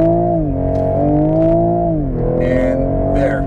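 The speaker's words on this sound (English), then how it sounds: "That was 0 to 60 from a dead acceleration onto the highway" A 2021 Toyota GR Supra pulls hard from a standstill onto a highway, its engine roaring loudly and climbing through gear changes in a few rising sweeps, with faint cabin noises near the end.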